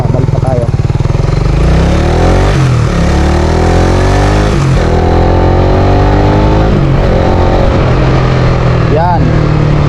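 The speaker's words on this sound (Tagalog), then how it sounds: "Yun yung tinatawag na engine brake mga boss." Loud motorcycle engine running close by, its pitch sliding down and rising again as the bike slows on engine braking and picks up, with someone talking over the engine noise.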